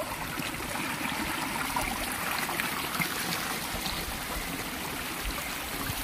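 Steady rushing and trickling of a clean stream on a pig farm, heard up close while wading across, a continuous broadband wash with no talk.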